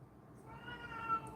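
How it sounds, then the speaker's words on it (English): A cat gives one loud, drawn-out meow, close by in a quiet home, with no talking over it. "Holy crow, that's a big meow."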